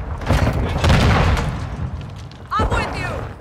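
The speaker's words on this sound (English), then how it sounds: "Stun grenade!" A stun grenade goes off in a Call of Duty match amid heavy booming gunfire and explosions, with a sharp burst near the end followed by a ringing, warbling tone, and voices are heard in the mix.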